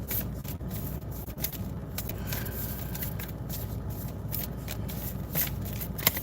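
A deck of tarot cards is shuffled and pulled, with steady soft riffling and flicking, several crisp snaps of cards standing out along the way, close and fairly quiet, with no talking.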